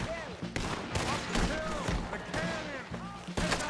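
Cannon blasts in Red Dead Redemption 2 boom out as loud, broad bursts mixed with other game noise, while someone talks over them throughout.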